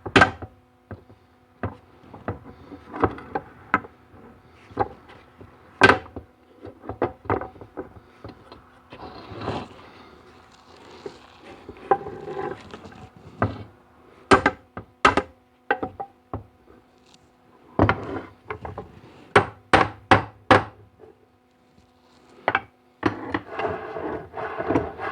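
Sharp metallic taps and knocks as a piece of aluminum drives a snug part into a GM NP246 transfer case, in irregular bursts, some single, some in quick pairs, with quiet pauses between.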